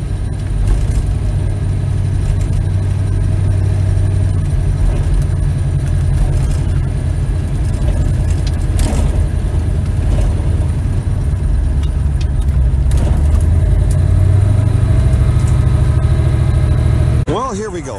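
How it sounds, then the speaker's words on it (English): A big block Chevy drag car idles loudly and steadily in a deep low rumble as it rolls into the burnout box at a drag strip, with the throttle swelling near the end before a sudden cutoff. "We have Derry Ray again coming up here with his big block Chevy. Slipping into the burnout box."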